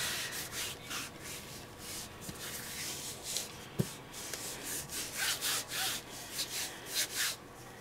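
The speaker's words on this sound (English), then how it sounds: "I'm definitely smoothing this out." Soft, repeated rubbing strokes of a brush smoothing acrylic paint across a 9x12 canvas pad, quiet and close, in an irregular rhythm of short swipes with a faint tap partway through.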